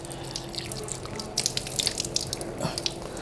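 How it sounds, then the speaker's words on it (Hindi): Water splashes and drips as hands and forearms are washed to the elbows during wudu, with scattered close splashes and trickling over a steady faint hum. "चुल्लू में पानी लें और फिर इस तरह धोएं, और कोहनियों समेत धोना।"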